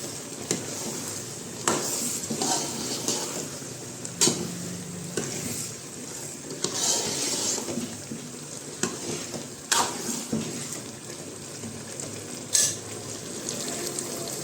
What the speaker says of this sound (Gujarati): આપણે હવે આપણે એ નાખી દઈશું ને સરસ મજાનું બધું મિક્સ કરશું